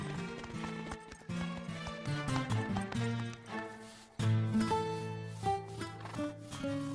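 Cartoon horses clip-clop as they are led back to their stalls at a ranch, a steady run of hoof beats mixed into a loud musical score that swells partway through.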